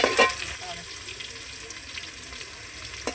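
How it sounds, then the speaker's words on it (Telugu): Onions and green chillies frying in a pan for a fish curry, a soft hiss and sizzle with a few stirring scrapes and clinks near the start. "ఇందులో మనం ఉల్లిపాయలు, పచ్చిమిర్చి వేస్తున్నామండి."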